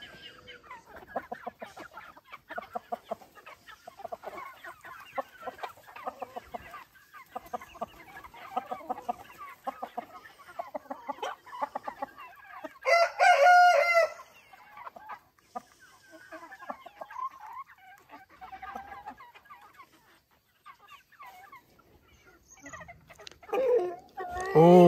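Free-ranging chickens in the rural Brazilian sertão of Serrita, Pernambuco, waiting to be fed corn, cluck busily and near with rapid, irregular calls and a few louder squawks.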